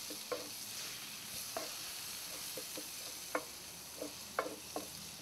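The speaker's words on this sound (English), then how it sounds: "The parsley is coming also to the pan, and as soon as we have moved it a little bit," Chopped parsley frying in oil in a paella pan, a steady faint sizzle broken by irregular scrapes and taps of stirring, with no talking.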